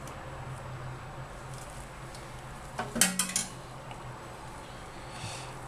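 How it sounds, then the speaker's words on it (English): Lavender cold process soap batter scraped from a container into a mold, heard as a short cluster of scraping and tapping knocks against a steady background hiss. "I don't want to waste that, so let's scrape that in there."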